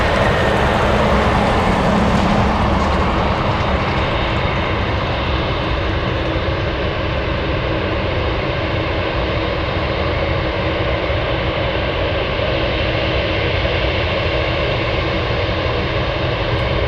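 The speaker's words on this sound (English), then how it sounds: "That's a 73-year-old C45 about to cross runway 33." A steady, loud engine roar fills the air at an airport as a 73-year-old Beechcraft C45 twin-engine plane taxis across a runway, the drone constant and broadband throughout with no voices.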